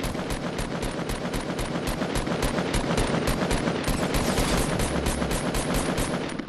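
Gunfire in a shooter video game where a hunting rifle is in use: loud, close shots repeat in a fast, even stream for about six seconds, with no talk.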